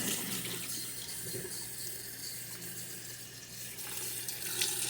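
Cold tap water runs steadily over cooked noodles in a kitchen sink, a continuous close splashing hiss at moderate level with no talk.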